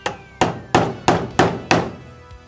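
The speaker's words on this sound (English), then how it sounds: "Once it's basically in place, you can hammer it down a little bit more flush" Six sharp hammer blows strike a valve cover seal on a 4-cylinder Toyota truck, evenly spaced and close up, each a solid metallic thwack with a short ring, with no talking.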